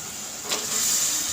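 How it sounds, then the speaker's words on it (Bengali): Meat drops into hot frying spices for halim and a soft, steady sizzle rises and holds, a faint airy hiss close by with no talking. "এখন আমি মাংসটা দিয়ে দিচ্ছি।"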